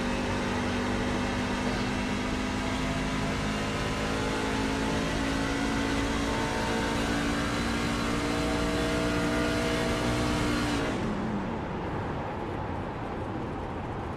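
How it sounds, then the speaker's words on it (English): Race truck engine from a Racers Elite Truck Series chase race at Homestead, loud and steady with sustained droning harmonics as the driver works throttle and clutch, pitch drifting slightly before the tone cuts off and fades near the end. "if you listen close, throttle, clutch. He's almost using the clutch as a brake."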